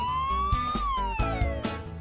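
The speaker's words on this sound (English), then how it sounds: "That's right, it's a police car." A toy police car siren wails with a rising then falling electronic tone over a rhythmic beat, loud and close, lasting the full clip.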